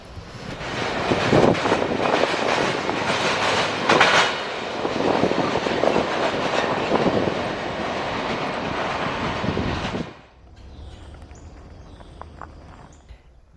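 A train rumbles past on the rails, loud and steady with clattering wheels for about ten seconds, then drops away to a quieter distant hum.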